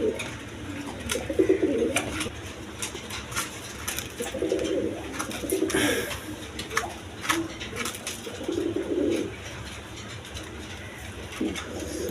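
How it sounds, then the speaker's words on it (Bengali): A pair of large pigeons coo in repeated low, throaty bursts at close range, with a steady background hum and a few faint clinks. "এখানে এক পেয়ার বাঞ্জা কবুতর আছে"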